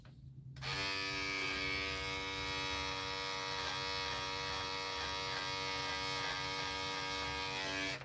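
An electric razor shaves a man's face, a steady loud motor buzz with rich harmonics starting abruptly after a brief quiet moment and continuing unbroken, close to the microphone.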